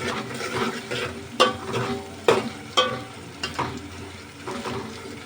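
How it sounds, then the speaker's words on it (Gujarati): Crushed ginger-garlic paste stirred into softened tomatoes in a pan for an ojri curry, a close sizzle broken by a few sharp scrapes and knocks of the spoon, no voices. "તો આદુ લસણ કૂટેલું આપણે નાખી દઈશું અંદર. અને એને આપણે કરી હલાવી નાખશું."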